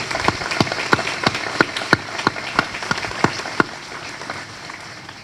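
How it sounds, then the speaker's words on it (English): Soldiers of a color guard are applauded at an Army change of command ceremony at Watervliet Arsenal, heard as a thin, evenly spaced series of claps from a few hands that fade out after a few seconds. "could we give these great soldiers a round of applause?"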